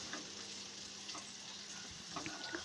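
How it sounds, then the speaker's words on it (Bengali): Chickpeas fried with spices in a pan for a chicken chickpea bhuna give a steady, close sizzle with scattered crackles and faint stirring scrapes throughout, with no talk. "এখন বুটগুলোকে মশলার সাথে ভালোভাবে ভেজে নেব।"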